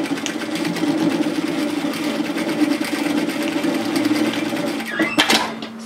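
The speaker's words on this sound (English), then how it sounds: "I'm going to stitch that shoulder seam into place" A sewing machine stitches the shoulder seam of an apron dress with a steady, close-up mechanical whirr for about five seconds, ending with a few brief handling clicks.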